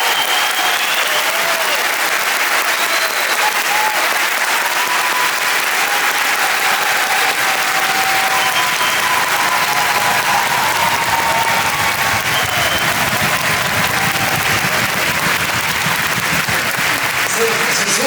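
A theatre audience at a live concert applauds loudly and steadily with dense, sustained clapping and crowd noise throughout, rising slightly in intensity partway through.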